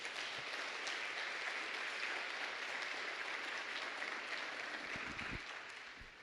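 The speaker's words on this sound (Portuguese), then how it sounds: "dá uma salva de palmas ao Senhor" Congregation applauding during a church service, a steady wash of many hands clapping at moderate distance, sustained throughout and fading slightly at the end.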